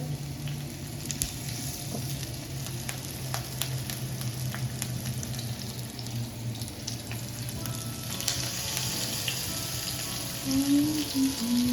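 Fish rubbed with turmeric, chili powder, salt and pepper fries in a pan, a continuous moderate sizzle with occasional faint clicks and a watery hiss rising toward the end, no talking.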